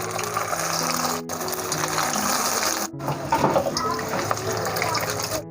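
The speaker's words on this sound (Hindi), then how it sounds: "नाज़रीन ऑयल हमने गर्म कर लिया है, तो अब हम फ्राई शुरू करते हैं।" Frozen chicken and vegetable cutlets sizzle steadily in hot oil over low to medium heat, a dense continuous hiss with brief breaks as pieces are added.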